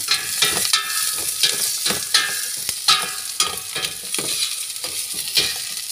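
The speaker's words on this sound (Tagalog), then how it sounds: "sangkotsa na po natin ang sibuyas at bawang" Onion and garlic sautéing in a hot pan, a loud close hiss punctuated by frequent rhythmic spatula scrapes and clinks as the pieces are tossed.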